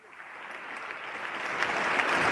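A chamber audience applauds during the 2014 State of the Union address, a broad wash of clapping that swells steadily louder over a couple of seconds.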